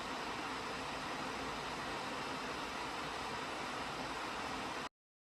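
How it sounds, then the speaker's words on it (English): Laptop cooling fans run loudly while a game is playing, producing a steady, dense, broadband whooshing hiss that stays constant for about five seconds before cutting off abruptly, with no voices. "not picking up the sound of my laptop's fans"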